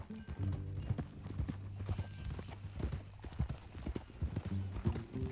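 Horse hooves clip-clopping in Red Dead Redemption 2, a steady rhythmic walking gait close by, with a brief whinny and a low musical drone under the hoofbeats.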